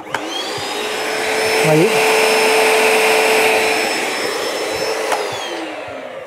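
A carpet-shampoo vacuum cleaner runs steadily with a loud, continuous whine and airy roar, swelling slightly midway, while someone speaks briefly over it.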